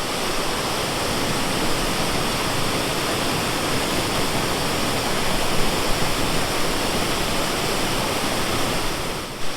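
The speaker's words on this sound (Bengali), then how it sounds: "আর এই যে জলটা পড়ছে দেখো" Steady, dense roar of water tumbling over rocks at Usri Falls, a continuous broadband rush with no pauses, loud and close throughout.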